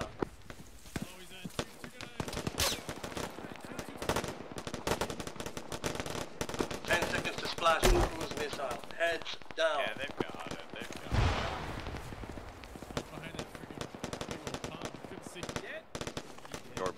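Arma video game combat with bursts of automatic gunfire and scattered shots amid tracer fire, dense and continuous throughout, with a voice talking over the action.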